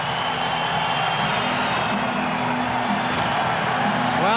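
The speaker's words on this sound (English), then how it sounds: "Listen to the crowd." Hockey arena crowd roars after a goal at a 1995 Winnipeg Jets versus Montreal Canadiens game, a dense, sustained wall of cheering that holds loud and steady throughout, with a whistle-like rising tone near the end.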